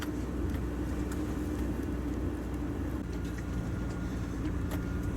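A four-wheel drive vehicle on reduced tyre pressures travels a rough, ungraded sand track near Cocklebiddy, heard from inside as a steady low engine rumble with faint rattles and bumps.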